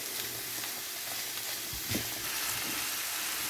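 Minced meat kofta fries with onion in a hot pan, giving a steady, close sizzle with a few soft stirring scrapes and no voices.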